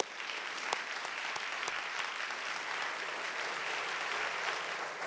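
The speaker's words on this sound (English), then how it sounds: "let's give all of our sponsors a big round of applause." Awards dinner audience applauding sponsors, sustained dense clapping from many people in a banquet room, a few sharper individual claps standing out early before settling into a steady, even roar.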